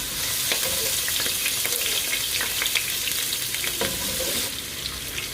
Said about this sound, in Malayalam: അപ്പോൾ നമുക്ക് എണ്ണ ചൂടായി വരുമ്പോഴത്തേന് ഇഞ്ചിയും വെളുത്തുള്ളിയും കറിവേപ്പിലയും ഒക്കെ വഴറ്റിയെടുക്കണം